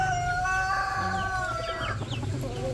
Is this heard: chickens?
yes